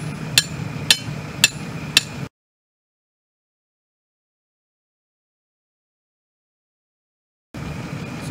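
A hammer drives a 24-inch stake into ordinary soil to set a ground anchor: four sharp, evenly spaced blows ring out close by, then the sound cuts to silence for several seconds before faint outdoor ambience returns.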